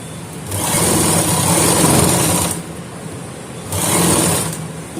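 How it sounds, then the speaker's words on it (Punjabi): A sewing machine stitches a round neckline onto a shirt in two steady motor runs, a long one and then a shorter one, with a brief quiet pause between them, close up and with no talking. "ਹੁਣ ਆਪਾਂ ਨੇ ਇਥੋਂ ਸਲਾਈ ਲਗਾਉਣੀ ਸ਼ੁਰੂ ਕਰ ਦੇਣੀ ਹੈ ਕਿ ਵੱਡੇ ਵਕੇ ਨਾਲ ਆਪਾਂ ਸਲਾਈ ਲਗਾਵਾਂਗੇ"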